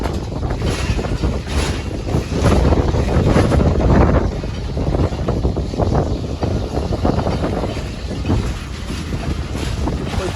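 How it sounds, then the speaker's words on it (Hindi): The Bolan Mail passenger train pulls away again, a loud, continuous rumble with rushing wind buffeting the microphone and rhythmic pulses of motion throughout. "जैसे ही ओवरटेक हुआ हमारी ट्रेन ने फिर चलना शुरू कर दिया।"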